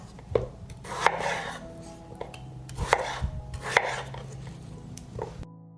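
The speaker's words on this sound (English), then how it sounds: "I will cut up 5 large potatoes." A knife chopping large potatoes on a board, a handful of sharp, irregular chops close by with small scraping sounds between them.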